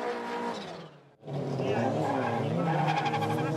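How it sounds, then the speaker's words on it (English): A drift car at a Formula Drift event at Soldier Field, Chicago, screeches its tires in a loud, sustained squeal, broken by a brief dip before the engine roars back over the continuous tire noise. "Chris FORSBERG in drift"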